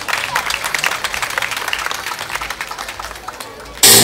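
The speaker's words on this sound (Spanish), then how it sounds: "El aplauso para el Ballet Cultural Samichay." Lively crowd clapping for a cultural ballet dance performance, busy and sustained, then cut off by a sudden loud burst at the end.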